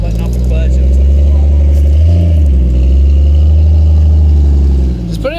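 A Mazda Miata's engine runs loudly and close by as the driver keeps letting off the clutch, with a deep, rumbling drone that dips briefly in the middle while people talk over it.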